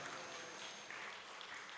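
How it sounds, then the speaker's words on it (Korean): Congregation applause at a Korean Wednesday church worship service, a soft, steady patter of many hands clapping at a distance, faint and continuous throughout. "사랑과 격려의 박수 보내주시기 바랍니다"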